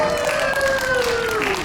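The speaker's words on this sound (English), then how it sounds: "I can tell by that round of applause" Dense applause from a concert audience at a fan convention in Philadelphia, continuous and fairly loud, with a whistle gliding downward over the clapping.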